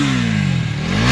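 A KTM Duke 250 third-generation motorcycle engine revs briefly, its exhaust note rising and falling in one short, loud, close blip with no talk.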